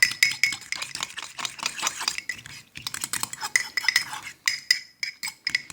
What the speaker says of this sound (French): Vous prenez une fourchette et vous mélangez le tout bien comme il faut.